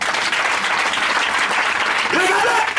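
A church congregation at a Sunday worship service applauds and cheers, steady dense clapping filling the room for the whole stretch, with a voice rising over it near the end.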